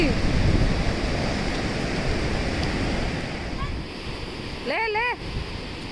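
Sea waves at Murudeshwar beach roll in as a steady, loud broadband surf roar, with a brief voice near the end.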